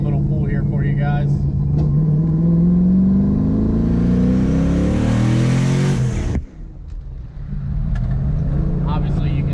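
A 2008 Ford Mustang GT accelerates hard on a street, its engine note climbing steadily for several seconds before cutting off abruptly as the driver lifts, then settling into a lower drone; loud, close, and steady throughout.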